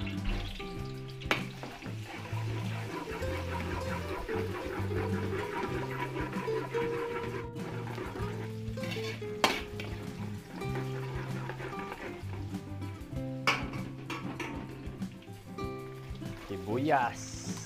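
Garlic sautéing in cooking oil for a Filipino chop suey, a continuous sizzle with clinks of utensils, heard under a person talking.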